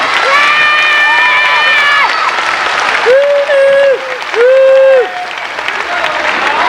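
An audience applauds at a Christmas 1991 works-council party show, with steady clapping mixed with crowd noise and loud tonal shouts or calls throughout.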